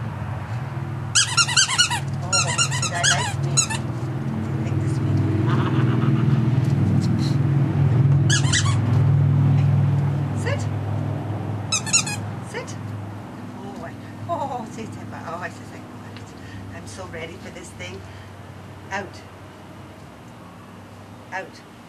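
A dog chews a squeaky toy, a small ball with a squeaker tied inside a sock, making repeated bursts of high squeaks in quick clusters. People talk and praise the dog over a low indoor hum.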